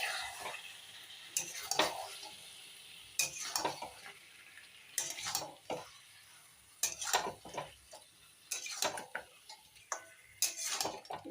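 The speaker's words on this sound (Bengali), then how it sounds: "এবারে ভালো করে কষাবো।" A curry with yogurt and potatoes being stir-fried in a pan, giving a quiet, continuous sizzle broken by repeated bursts of utensil scraping and clinking against the pan at irregular intervals.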